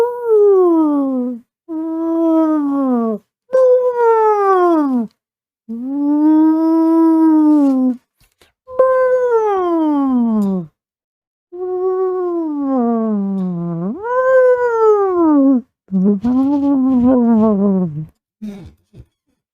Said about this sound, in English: why don't I just play whale noises?